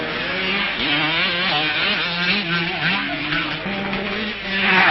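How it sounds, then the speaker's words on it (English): Kawasaki motocross motorcycles race in an All-Japan Motocross Championship event, engines droning and wavering in pitch as they rev and shift, a steady loud mechanical roar with several bikes overlapping throughout. "This race is one of the series in the All-Japan Motocross Championship"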